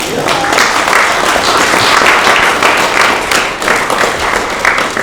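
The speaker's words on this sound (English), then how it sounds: "Can we get a big round of applause for them?" Sustained audience applause from a crowd at a Bengali and Canadian literature celebration at St. Paul's in Toronto, steady dense clapping filling the whole stretch, loud and close with a few voices mixed in.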